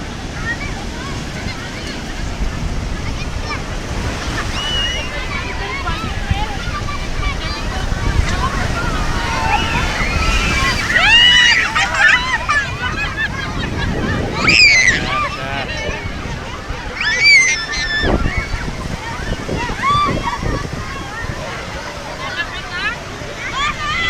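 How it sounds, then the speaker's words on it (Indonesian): Big waves break and wash onto the beach at Pantai Menganti, Kebumen, a steady roaring surf with swelling crashes, while people talk and call out nearby over the water. "Ombaknya gede."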